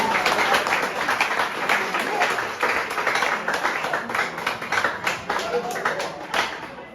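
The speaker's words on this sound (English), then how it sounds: "Please, let's clap for all of them." An audience at a basic schools science and mathematics quiz final claps for the contestants, dense continuous applause from a large crowd that stays loud throughout, with voices mixed into the clapping.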